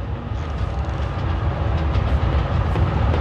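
Moving train in the video game Forgotton Anne, a steady loud rumbling roll with faint clacking of wheels on track, continuous and close throughout.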